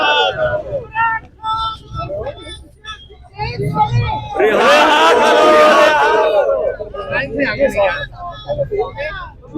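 A crowd of activists at Lahore High Court shouting freedom slogans, voices rising together in a loud surging chant amid speech and babble, with quieter talk before and after.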